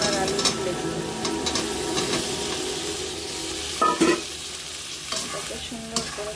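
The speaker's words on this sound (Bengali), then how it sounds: "আর এই যে আমি মশলা কষাচ্ছি, এটার মধ্যে এখন আমি এই বেগুন আর আলু তুলে দিই।" Cut eggplant and potato are stirred into frying spices in a pan, a continuous sizzle broken by repeated spatula scrapes and knocks, close and moderately loud.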